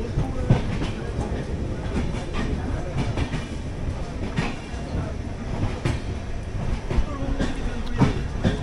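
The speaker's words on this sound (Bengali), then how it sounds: "ট্রেন তো পুরো ছেড়ে দিল" A passenger train running on an overnight service out of Sealdah, Kolkata toward New Jalpaiguri, with a steady loud rumble and rhythmic clickety-clack of wheels over rail joints throughout, heard from inside the carriage.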